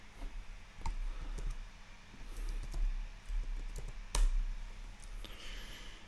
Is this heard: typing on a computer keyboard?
yes